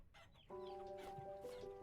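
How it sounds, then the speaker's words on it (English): Chickens cluck in the video game Vintage Story, a short burst of close, moderately faint clucking and warbling calls with no voices. "Yeah, we got a lot of chickens now."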